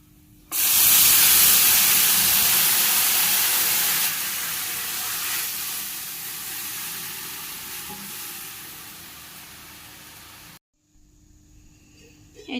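Lentils tipped into hot oil already frying with garlic and dried chili, a sudden loud sizzle that holds steady and slowly fades over about ten seconds before cutting off.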